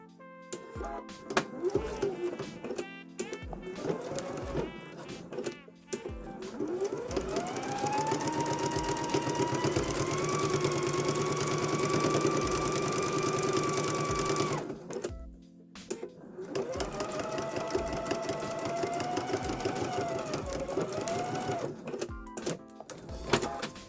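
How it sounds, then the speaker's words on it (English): Sewing machine stitching a quarter-inch seam on quilt binding, a close, steady motor whir with a rising pitch in long runs, broken by brief pauses and clicks between stretches of stitching. "now you just stitch it down using your 1/4 inch seam"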